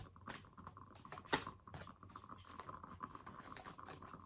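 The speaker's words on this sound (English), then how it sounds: "if there's any other cards that kind of stick out and fall out continuously in the midst of shuffling" Tarot cards are shuffled by hand in a quiet ASMR setting, giving close, soft riffling taps and papery scratches in an uneven patter with one sharper snap partway through.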